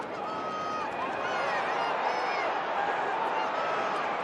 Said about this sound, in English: Crowd getting involved at least.